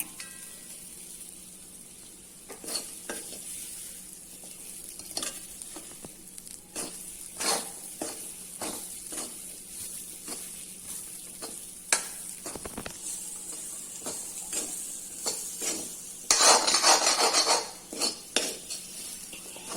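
Jackfruit seeds frying with masala in a pan, a steady close sizzle broken by repeated metallic scrapes and clanks of a spoon stirring, with a brief louder burst of hissing near the end.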